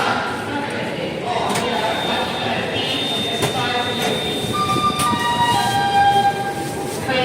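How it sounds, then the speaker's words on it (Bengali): The Bengaluru-Howrah Duronto Express (12246) pulls out of platform 1, a continuous rumble of rolling rail cars with thin squealing tones rising over it, and voices faintly in the background. "আমাদের ট্রেন প্ল্যাটফর্ম নাম্বার 1 থেকে ছেড়ে দিল"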